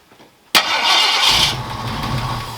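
A Ford Galaxie engine cranks and catches suddenly after a quiet moment, then settles into a loud, steady idle with a slight rise in revs, heard close up with no talking.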